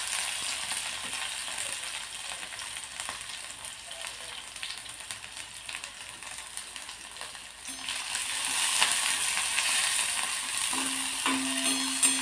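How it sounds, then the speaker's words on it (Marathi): Green chilies and finely chopped onion tossed into hot oil, giving a steady sizzling fry that grows louder and denser partway through, with no talking. "आता तेल गरम झालं आहे, यामध्ये आपण 2-3 हिरव्या मिरच्या अशा तुकडे करून घेतलेत, त्या टाकू."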